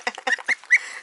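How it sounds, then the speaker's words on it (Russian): Farm geese give a quick burst of honking, four or five short nasal calls in rapid succession, close and fairly loud, over about a second. "Гуси-лебеди."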